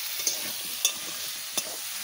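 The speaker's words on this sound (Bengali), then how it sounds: "আমি আর এর ভিতরে আলু আর হচ্ছে চই ঝাল একসাথে আমি ভাজা করে নিচ্ছি।" Potatoes and chui jhal fry together in a pan with a steady, close sizzle, broken by a few sharp scraping clinks from stirring at regular intervals.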